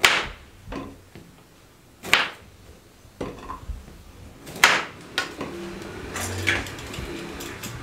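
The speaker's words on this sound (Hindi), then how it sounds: "4 अदद लीमू हम इसमें शामिल करेंगे। इस तरीके से पहले काट लेते हैं।" A knife cutting through lemons on a board, a few separate sharp chopping strikes with pauses between them, close and fairly clear with little else underneath.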